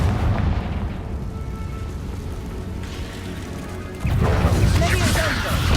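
Confringo fire spell explosions in the video game Hogwarts Legacy, booming blasts and crashes over a continuous game soundscape, with a loud burst near the end and speech mixed in.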